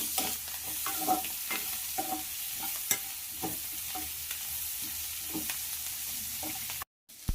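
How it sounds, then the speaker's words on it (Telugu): Chopped green chillies fry with garlic in a pan for Andhra-style tomato gojju: a quiet, steady sizzle punctuated by repeated scraping and clicking stirs, with a brief cutout near the end. "ముందుగా కట్ చేసుకున్నటువంటి పచ్చిమిరపకాయలను ఇందులోకి వేసి కొద్దిసేపు ఫ్రై చేయాలి"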